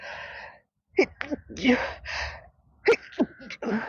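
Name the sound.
sneeze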